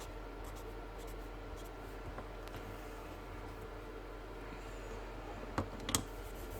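A pencil sketches a panther tattoo design on paper, making soft, steady scratching strokes over quiet background hiss, with a couple of sharper taps near the end.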